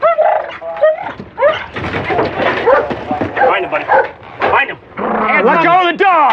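A police canine barks and yips loudly and close during a search of a house attic, its barks and whimpers mixed with shouting officers.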